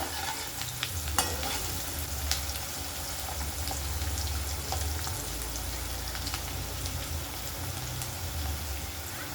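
Maggi noodle ingredients frying in a pan, a steady loud sizzle with the scrape of stirring and occasional sharp crackles and pops, no voice.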